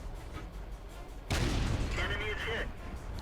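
Tank cannon fire from the T26E4 SuperPershing in the World of Tanks video game: a sudden loud boom with a rumbling, noisy tail, a fainter whine layered over steady background noise.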